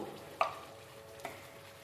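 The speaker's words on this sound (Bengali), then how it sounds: "আমি এগুলো এবার নাড়তে থাকবো মশলার সাথে" Chicken with ground coriander, cumin and chili powder cooks in a pan for a restaurant-style chicken bharta, a faint low sizzle with two soft spoon clinks, quiet and close, no talking.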